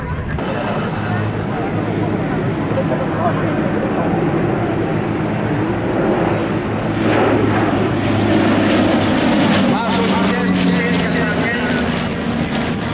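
A government air service airplane at an air show in Québec banks overhead, its engine drone rising and falling while a commentator talks over it.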